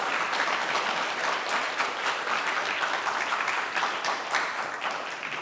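A crowd at the NJ SDOH Challenge event gives itself a steady round of applause, many hands clapping evenly and fairly loudly for the whole stretch.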